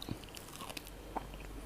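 Boiled corn being chewed: a few soft, close crunching bites and wet chewing sounds, faint and brief, with no talking.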